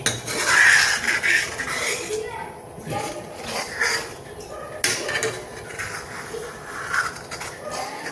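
Stirring yogurt kadhi in an iron kadai gives repeated scraping and clinking of a utensil against the metal pan, loud at first and then intermittent, with someone talking over parts of it.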